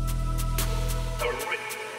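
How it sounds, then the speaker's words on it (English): UK drill beat made in FL Studio with a flanger effect, sweeping metallic tones over deep sliding bass and crisp hi-hat ticks, then a reverb-washed fade. "I did it with a flanger as well."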